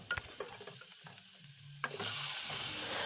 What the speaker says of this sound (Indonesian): ini ditumis sebentar aja sampai keluar minyak sedikit dari dagingnya ini